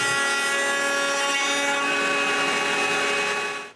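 A power saw cuts grooves through wooden rails for a bathroom towel cabinet, giving a loud, steady tonal whine that holds for several seconds and then cuts off sharply at the end.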